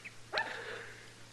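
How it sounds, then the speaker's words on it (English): A small dog out in the street gives a single short, faint bark against a quiet background hum. "look at that little old dog out in the street there"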